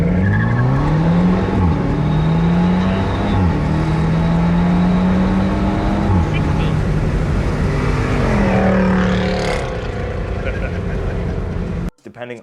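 A Mercedes fitted with a Racechip GTS Black tune launches in a 0 to 60 run, its engine rising in pitch through several gear shifts, loud and close before easing off near the end.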